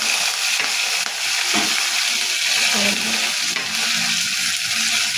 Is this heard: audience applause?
no